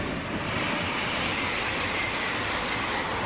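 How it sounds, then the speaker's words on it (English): An Italo AGV high-speed train passes at speed, a steady loud rushing roar of wheels and air that holds evenly throughout, with no voices. "Nope, it's just a train."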